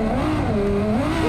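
A car engine runs at full throttle in BeamNG.drive, a loud, close, sustained roar whose pitch dips and then climbs again.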